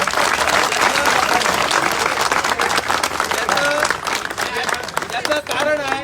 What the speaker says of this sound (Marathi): टाळ्यांचा गजर आपण करूया